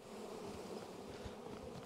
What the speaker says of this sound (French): Il y a beaucoup d'abeilles au fond.